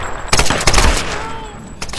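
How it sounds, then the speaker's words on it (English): Rifle gunfire in the video game Tomb Raider: a loud, close burst of rapid shots with sharp cracks packed together, fading into a ringing tail over about two seconds. "we're going to move forward, and we're going to do it with the rifle here"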